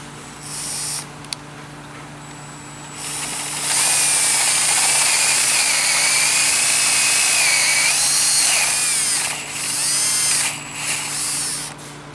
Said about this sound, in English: Just take your time drilling this hole.